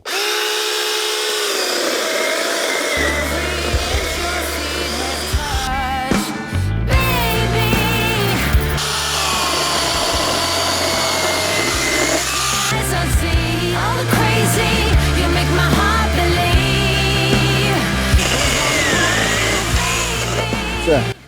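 Sequoia cordless mini chainsaw, an SBC2004M-QV or SBC2008BM battery model, cutting through a large stump with a steady loud motor whine and shifting load tones throughout, briefly dropping out once before revving on.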